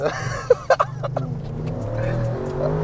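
A 2021 Audi RS6 accelerates hard with a low, sustained engine roar heard from inside the car, while occupants exclaim in short bursts over it early on.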